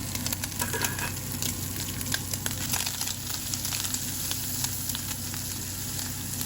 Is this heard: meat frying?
yes